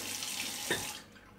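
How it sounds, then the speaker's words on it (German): A shaving brush is rinsed under a running tap, a steady hiss of flowing water with a brief splash near the end before the flow cuts off quickly. "ich mache es immer so kreisend auf den Fingern und halt hier von oben das Wasser drauf laufen lassen, einfach ausspülen"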